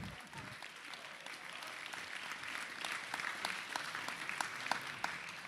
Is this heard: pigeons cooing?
no